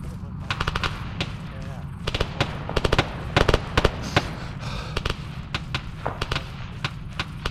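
Rapid bursts of automatic rifle fire and single gunshots crackle in uneven volleys throughout an Arma 3 firefight, some shots near and sharp, others more distant, over a steady rumble with faint voices underneath.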